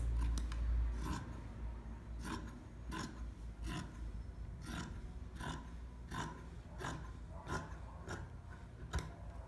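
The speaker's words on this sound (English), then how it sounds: "So I'm gonna cut across." Scissors snip across a cotton t-shirt being cut into rectangles, a steady series of close, crisp cuts at a regular rhythm with no talking.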